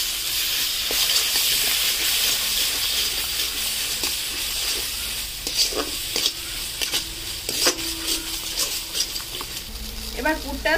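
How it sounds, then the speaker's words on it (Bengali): Chopped prawn filling for stuffed pointed gourd sizzles steadily in a hot pan while a utensil stirs and scrapes it, producing repeated close clinks over the constant frying hiss. "কেটে রাখা চিংড়ি মাছ, ভালো করে নেড়ে নেব, কষিয়ে নেব এটাকে।"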